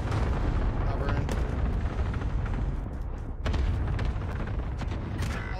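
Steady loud gunfire in a tactical shooter match, including a sniper shot fired from a middle window near a lighthouse, with repeated sharp reports over constant battle noise.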